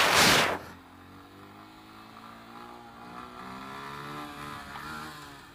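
A big motorcycle engine, not a miniature Grom, drones in steady mid-range tones after a brief loud burst at the start, its pitch rising and falling gently as it revs and idles nearby.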